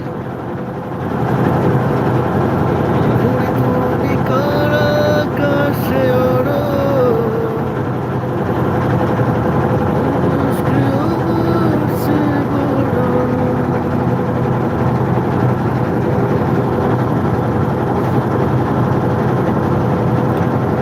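A boat engine drones steadily while crossing a river, a loud continuous hum close by throughout, with a voice faintly audible over it at times.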